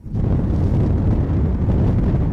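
Outdoors in Nazaré, strong wind buffets the microphone in a loud, constant low roar that starts abruptly and stays steady, with no voices over it.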